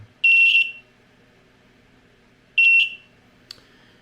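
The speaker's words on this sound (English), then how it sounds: "Sounds like a smoke detector, and it's a constant." Two piercing electronic beeps, each held about half a second, separated by a pause, followed by a faint click; loud, over near silence.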